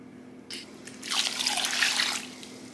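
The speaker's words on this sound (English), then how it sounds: "So now what I'm gonna do is get some vinegar, add it to the bowl, add it to some water," Raw shrimp being swished and rinsed by hand in a bowl of vinegar and water; close, steady splashing and trickling builds after a couple of brief drips, with no talk.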